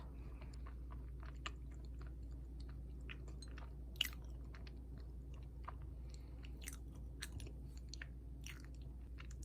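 Close, quiet chewing of a red bean scone, soft irregular crunches and mouth sounds over a low steady background hum, with no talking.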